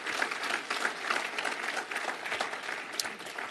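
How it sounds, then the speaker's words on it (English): A church congregation gives a round of applause to its board of deacons during a worship service, a lively, uneven clatter of many hands with individual claps standing out, moderately near and unbroken by speech. "I want you all just to thank them by just giving them a big round of applause."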